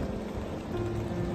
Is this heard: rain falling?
yes